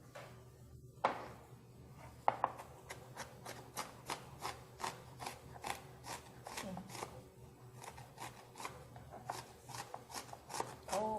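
Knife mincing onion on a cutting board during a cooking session: rapid, fairly regular chopping taps, close and moderately soft, continuing for several seconds, with faint background sounds.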